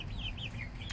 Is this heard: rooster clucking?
yes